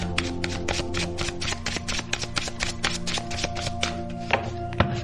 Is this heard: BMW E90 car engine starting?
no